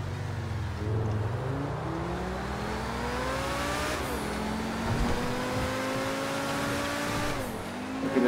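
A Lamborghini supercar driving fast on a GTA 5 highway: a steady high engine drone with rising pitch sweeps as it shifts gears, a rough bump near the middle, and no talking.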